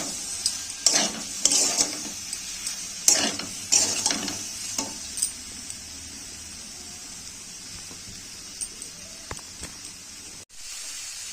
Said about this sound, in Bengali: জিরে গুঁড়ো, লঙ্কার গুঁড়ো দিয়ে দেবো। দিয়ে আমি এটাকে কষে নেব।